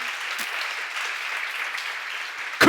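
A church congregation at a seminar applauds steadily, a dense even wash of clapping, before a sudden loud close sound cuts in at the very end.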